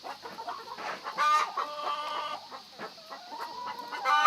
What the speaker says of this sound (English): 200 chickens